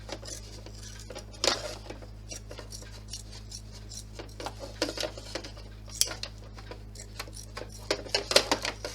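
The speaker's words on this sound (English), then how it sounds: "So using your scissors again, remove all of the excess." Crisp, irregular snips and clicks of scissors trimming excess fabric, close up and fairly quiet over a steady low hum.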